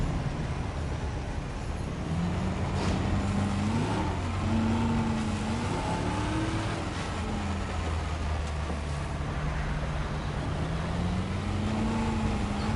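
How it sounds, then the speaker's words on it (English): A damaged Jeep engine in the video game Jurassic World Evolution 2, the vehicle smoking with wobbly tires, gives off a steady, uneven low rumble with wavering pitch that runs continuously throughout without talk. "The engine doesn't sound normal."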